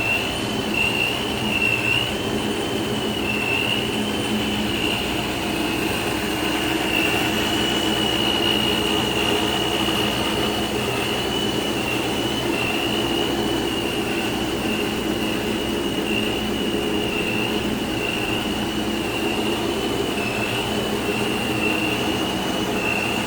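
A supercharged 6.2-liter ProCharger V8 in a 2011 Ford F-150 Lariat Limited runs steadily, a constant close drone topped by a sustained high-pitched supercharger whine, with no talking.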